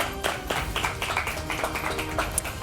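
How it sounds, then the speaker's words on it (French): Scattered clapping from a small audience at a game show debrief, greeting the yellow team as two players come forward; steady, close and moderately loud for the whole stretch, with faint voices mixed in. "on peut les applaudir encore une fois"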